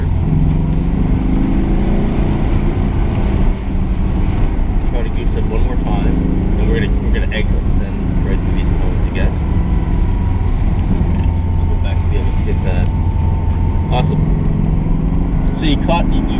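A Porsche engine at a club driver skill event on a track drones steadily under hard acceleration, loud and continuous, while people talk over it throughout.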